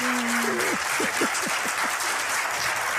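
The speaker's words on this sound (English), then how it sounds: "Look at them clapping like" Audience clapping from a played media broadcast clip, a steady dense wash of applause throughout, with a brief voice-like tone near the start.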